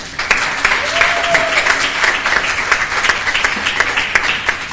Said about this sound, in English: give a big round of applause to my friend, your friend, our leader, Congressman Hakeem Jeffries.